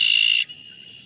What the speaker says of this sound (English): You probably heard red-winged blackbirds.